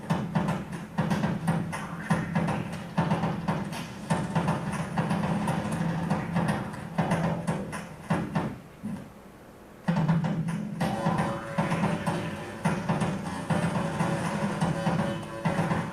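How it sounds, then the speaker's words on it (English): A desktop synthesizer makes spaceship engine sounds, a pulsing electronic drone with rhythmic throbbing, briefly cutting out before resuming. "a small spaceship on your desk that makes spaceship sounds"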